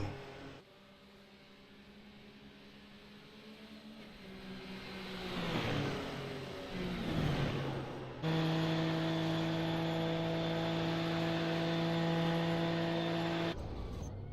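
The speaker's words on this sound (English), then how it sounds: "Oh, no, we did hear a car go sideways there." A racing car in the iRacing game slides sideways, with a droning engine, a rough scrubbing surge in the middle and then a loud, steady high engine whine before it cuts off. No one talks.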